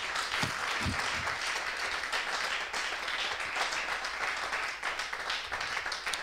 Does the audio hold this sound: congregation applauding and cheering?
yes